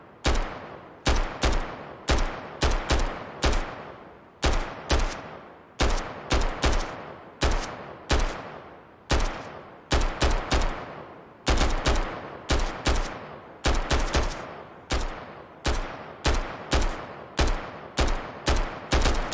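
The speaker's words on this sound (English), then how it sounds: "Let's just shoot to lure him in." Gunfire from the survival shooter Road to Vostok, a long sequence of sharp, loud single and double shots with brief echoing tails, fired in an irregular but steady rhythm, with no talk.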